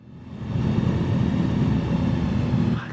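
Airplane engine in a Microsoft Flight Simulator landing, a steady broadband drone of engine and wind noise that holds for a few seconds, moderately loud, then eases off at the end.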